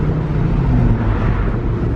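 A 2002 Dodge Viper with a six-speed stick shift pulls hard in third gear, its engine a loud, steady, deep roar that fills the whole span without a break.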